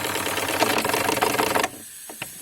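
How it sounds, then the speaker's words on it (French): A live steam tug's original transmission and engine idle with a steady rapid mechanical clatter that suddenly stops, leaving a few faint knocks. "Donc vous entendez un moteur au ralenti"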